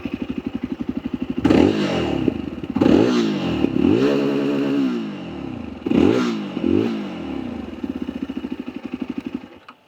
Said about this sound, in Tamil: லைட்டாக ரிவ் பண்ணி பார்ப்போம்.